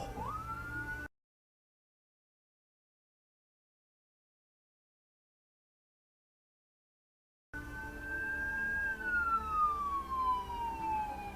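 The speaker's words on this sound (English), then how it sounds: "The sedan driver just froze when he heard the ambulance" An ambulance siren wails along a road, its tone sweeping and slowly falling as it passes at moderate distance over traffic noise, with a gap of silence in the middle.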